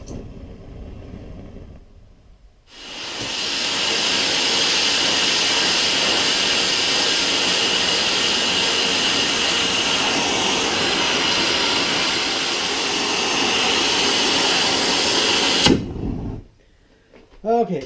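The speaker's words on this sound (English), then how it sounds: "take the torch here. I'm gonna heat this bolt up red hot." A gas torch heating a bolt red hot after the striker lights it: a loud, steady roaring hiss that runs for about thirteen seconds before cutting off, with a brief clatter after it stops.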